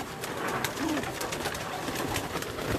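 Pigeons on a rooftop loft in Gujranwala, one a cross of Hira Lal stock, give a low, brief coo near the one-second mark over a steady background hiss, with no voices present.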